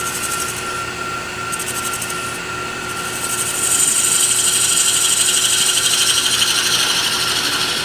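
A wooden ring box sanded as it spins on a woodturning lathe, a steady close abrasive rubbing hiss over the motor hum that grows slightly louder midway, with no talk.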